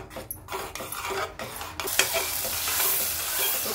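Thickening chutney is stirred in a pan over low heat, clinking and scraping utensil strokes against the metal, followed by a steady sizzling hiss, close up.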